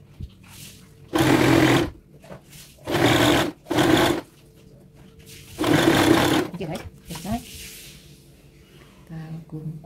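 A sewing machine stitches a trouser pocket in four short, loud whirring bursts separated by pauses, with light handling noises between runs.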